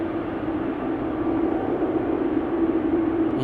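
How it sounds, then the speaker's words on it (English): Distant jet airliner departing from the center runway at Amsterdam Schiphol airport, a steady broadband roar with a sustained low hum, continuous and even in level, heard alone without speech. "I think I am seeing an airplane depart from the center runway."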